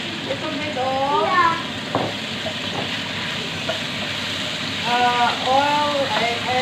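Marinated meat fries in oil and soy sauce for pancit bihon, a steady close sizzle and hiss running throughout beneath someone talking.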